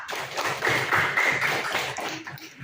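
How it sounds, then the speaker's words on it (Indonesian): A classroom of students claps for a classmate who answered a question, a short burst of light rhythmic hand claps that swells briefly and then thins out. "Tepuk tangan buat jumpa."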